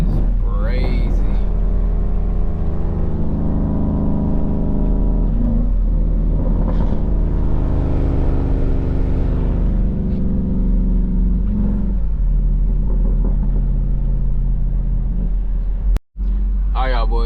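A Dodge SRT 392 at a car meet gives off a deep, loud engine rumble that swells with revs and settles back to a heavy idle, with brief talk nearby.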